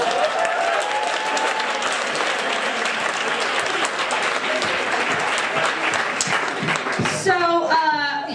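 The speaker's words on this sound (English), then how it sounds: "Clap them up, please." Audience at a stand-up comedy show applauding steadily as a couple comes up from the crowd, with a voice talking over the clapping near the end.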